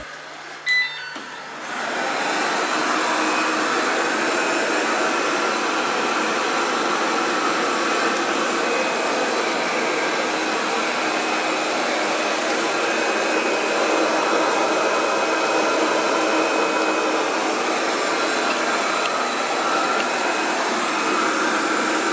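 A steady, broadband whirring hum of an Ultenic D5S Pro robot vacuum cleaner starts after a brief click and runs continuously at even volume, with no voices.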